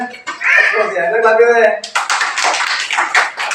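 A voice speaks briefly, then a school audience at a Colours Day event breaks into dense, lively applause that carries on to the end.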